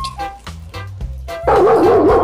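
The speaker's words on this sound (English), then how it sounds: "D for dog." A dog gives a brief burst of barking and yipping toward the end, loud and close, after a few notes of cheerful music.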